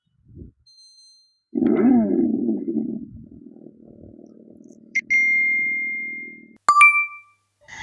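A Revolt RV 400 electric sports bike powers on with a low whirring start-up tone, followed by two bright electronic chimes, clear and close in a quiet setting.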